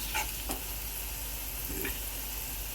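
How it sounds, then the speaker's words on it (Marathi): Ginger and garlic sautéing in a pan for kolambi (prawn) masala, giving a steady, fairly faint sizzle with a couple of soft stirring scrapes and no talk over it. "1-2 मिनटं जरा परतायचा, आल्याचा कच्चा आलं लसूणचा कच्चेपणा झाला पाहिजे।"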